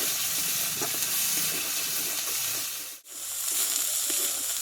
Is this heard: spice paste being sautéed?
yes